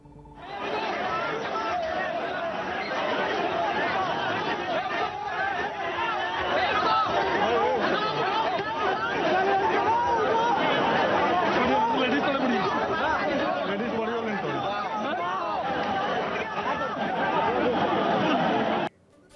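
A dense crowd of pilgrims at the Jagannath Puri yatra, with loud continuous chatter and many overlapping voices filling the scene, heard close and unbroken until an abrupt cut.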